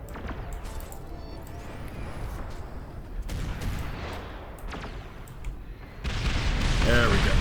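Artillery fires in the strategy game Beyond All Reason, a scatter of booms and sharp blasts during a base siege that grows denser and louder toward the end, with a player talking over it.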